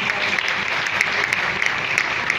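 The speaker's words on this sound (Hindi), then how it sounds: "इन्होंने गाया उस हिसाब से तालियों की संख्या जरा मुझे कम लगी" Steady audience applause following a sung performance of a Hindi film song at a live stage show, dense clapping from many hands sustained evenly throughout at a moderately loud, close level with no voices.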